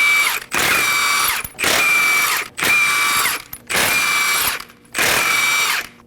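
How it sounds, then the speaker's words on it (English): A power tool with a 21mm socket removes the lug nuts from the front wheel of a 2017-2024 Nissan Armada in five loud, whirring bursts of about a second each, separated by short pauses. "Using a 21mm socket, we're going to go ahead and remove the lug nuts."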